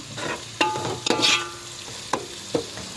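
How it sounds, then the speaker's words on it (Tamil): Curry leaves sautéing in a pan for South Indian fish kulambu, a close crackling sizzle broken by several distinct spatula knocks and scrapes against the pan, no voices. "அந்த கருவேப்பிலை எடுத்துன்னு நல்லா வதக்கி விட்டு நல்லா வதக்கி கொடுங்க"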